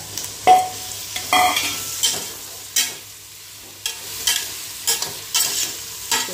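Onions and brinjal are sautéed lightly in a pressure cooker, with a string of sharp spoon-scraping stirs against the metal pot over a soft, quiet sizzle, each stroke close and distinct, separated by short pauses.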